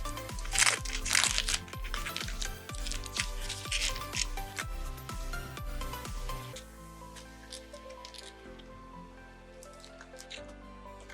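Bites into a blueberry muffin with crunchy streusel topping give close, crisp crunching and crinkling in a steady chewing rhythm, fading to softer, quieter chewing toward the end.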